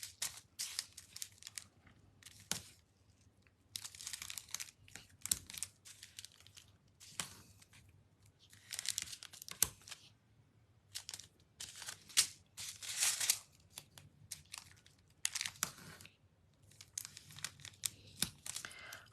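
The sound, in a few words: tearing and peeling tear-and-tape adhesive tape for card making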